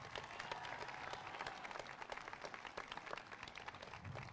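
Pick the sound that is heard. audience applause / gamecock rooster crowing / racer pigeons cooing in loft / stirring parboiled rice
audience applause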